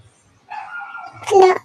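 A dog gives a short whining yelp and then a louder, brighter bark or yip, two quick close calls over a quiet background.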